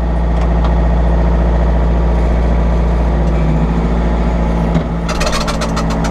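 A Kubota tractor engine runs steadily at a set RPM, a loud, continuous low drone with a brief dip near the end and a burst of higher clatter as it settles.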